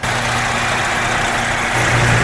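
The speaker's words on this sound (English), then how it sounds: "That is a Detroit Diesel Series 60 on a beaver marquee." A Detroit Diesel Series 60 engine in a Beaver Marquis motorhome idles with a loud, steady low rumble that deepens slightly near the end.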